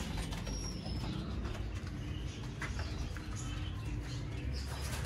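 Rooftop pigeons in a loft coo softly amid scattered chirps and faint wing flutters, set against a loud, steady background rumble of outdoor noise.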